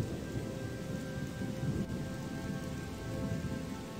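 Rain and thunder in the video game Odyssee, a steady wash of rainfall with a low rolling rumble underneath, continuous and fairly quiet with no voices.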